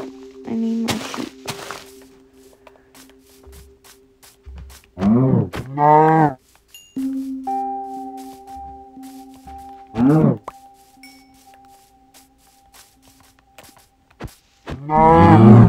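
Cows mooing in the video game Minecraft, several separate low drawn-out moos spaced a few seconds apart over a quiet background with soft thuds.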